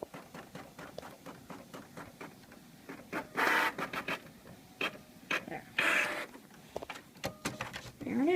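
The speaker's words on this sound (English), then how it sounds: "I'll press OK, and then it will print out of my printer." An inkjet-style home printer feeds and prints a postcard from a PC, giving repeated mechanical shuttling and whirring passes with louder bursts of paper feed, close by and continuous, without talk.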